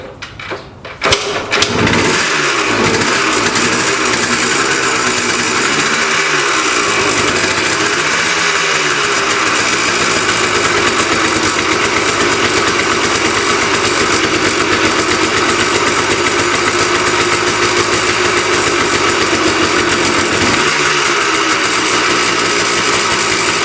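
A Yamaha RT180 dirt bike with a new spark plug sputters and catches after a few rough attempts, then settles into a loud, steady nearby idle with occasional throttle dips.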